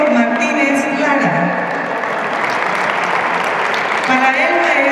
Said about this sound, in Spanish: Un aplauso fuerte para el maestro Héctor Martínez Lara,